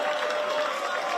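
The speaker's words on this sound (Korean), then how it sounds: "네, 큰 박수 부탁드립니다." Audience applause at a government workshop, a short, even stretch of dense clapping with crowd murmur running through it.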